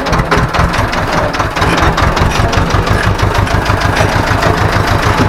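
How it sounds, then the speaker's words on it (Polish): A heavy Ursus C330M tractor engine idling close by, a loud, steady low chugging with rapid regular knocks and no voices. "Nie chcę, żeby był ten dźwięk silnika teraz słyszany."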